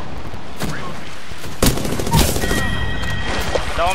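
Gunfire in a shooter video game, several sharp bursts of shots about midway through with broadband crackle around them, mid-distance and fairly loud, with game ambience and a faint voice underneath.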